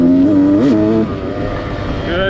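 A 2019 Beta 200RR two-stroke enduro motorcycle accelerating hard, with a loud buzzing engine note that rises and wavers in pitch before steadying, heard close.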